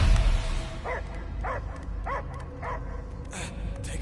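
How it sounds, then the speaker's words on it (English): A dog-like creature in the Guardians of the Galaxy video game gives a run of short, evenly spaced barks, about five or six yips over a steady ambient background. "I hear only barking."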